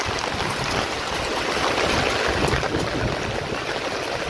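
Floodwater rushes through a waterlogged housing society after heavy rain, making a loud, steady, close wash of flowing water with no talking.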